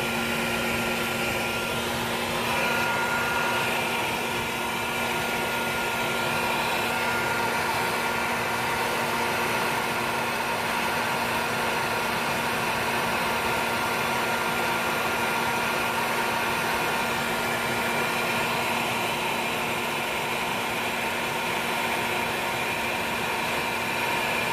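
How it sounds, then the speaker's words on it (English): A vacuum cleaner used for honeybee removal from a trailer runs steadily, a loud continuous whirring roar with a constant hum that holds unchanged throughout, with no talking. "the vacuum cleaner today, folks, is going to make my life 20 times easier"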